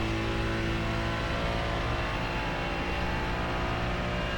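Car driving a lap on a race track, a continuous loud engine drone with steady throttle, held below full power, close and sustained throughout.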